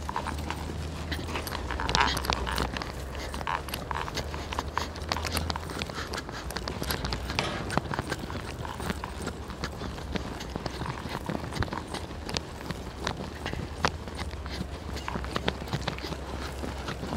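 A horse trots in a warm-up session, its hooves beating a steady, brisk rhythm on the ground throughout, moderately close, with faint talk underneath.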